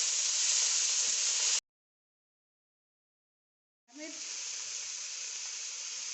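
Peas sizzling in hot oil in a pan for egg fried rice, a steady bright frying hiss that cuts out for a couple of seconds and then resumes, with a brief stir or clink as it returns.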